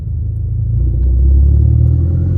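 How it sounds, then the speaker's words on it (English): Toyota Supra engine intake heard from inside the cabin near the dash: a deep, steady low rumble that swells slightly in the middle and stays loud throughout, with no talking. "I'm hoping the microphone catches all these noises coming from the dash, because that's literally where the intake is"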